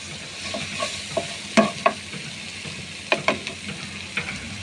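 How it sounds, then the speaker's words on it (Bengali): Vegetables for beef kofta fried rice (capsicum, spring onion, shredded cabbage, peas) stirred in a hot sizzling pan, with a steady fry hiss and a series of sharp utensil scrapes and clacks at irregular intervals, close and fairly quiet. "দিয়ে আমি এটা কিছুক্ষণ নেড়ে নিব।"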